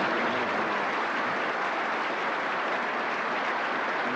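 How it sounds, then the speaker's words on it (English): Audience applause during President Ronald Reagan's 1983 Evil Empire speech, a steady, dense wash of many hands clapping at moderate level throughout, with no voices over it. "And the applause ends."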